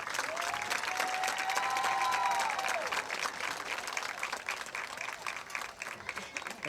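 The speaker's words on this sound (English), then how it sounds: "Would you please have a round of applause for them" An audience at a sports hall of fame induction ceremony gives a round of applause, steady crowd clapping lasting several seconds with a brief tonal sound near the start, tapering off slightly toward the end.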